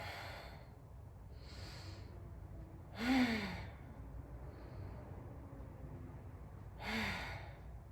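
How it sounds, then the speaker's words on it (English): Deep, slow exhales during a beginner yoga breathing routine for Covid recovery, a few breaths spaced a few seconds apart, soft and close over a quiet room hum. "5 deep breaths. Every exhale allows me to go up more."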